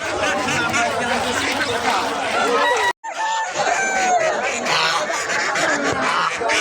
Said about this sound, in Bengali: হাঁস মুরগি কি চাই ভাই?